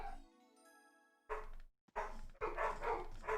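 Dogs bark at home in a few loud, close bursts, following an electronic tone from game audio and a brief silence.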